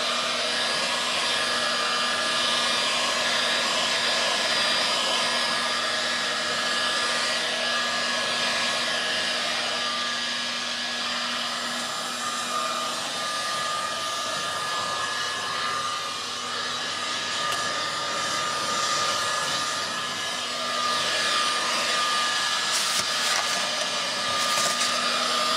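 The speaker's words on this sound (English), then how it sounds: "heating them up with that hot air gun just to apply a bit of a skin to them" A hot air gun blows steadily for the whole stretch, a loud constant whoosh with a fixed whine, heating and skinning big chunks of cut foam being shaped into terrain mountains.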